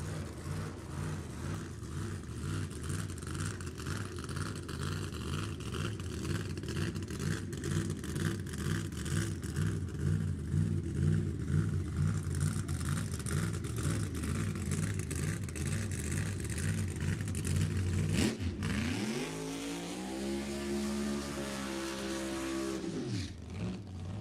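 A nitromethane nostalgia drag racing car makes a pass at a drag strip, a loud sustained engine roar with pulsing rhythm that cuts off abruptly and then gives way to a falling, sweeping engine tone as it slows.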